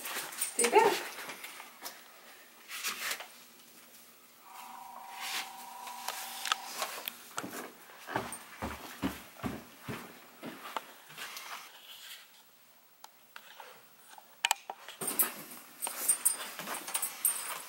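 An Australian Shepherd puppy and an older dog whimper and yip softly at a new meeting indoors, with high thin whines and short yelps coming and going while people talk quietly nearby.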